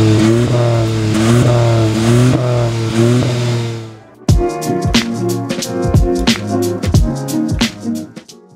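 A Hyundai Venue N Line's split tail exhausts rev in a sustained blip, then settle into rapid, punchy throttle stabs that crackle and pop, loud and close.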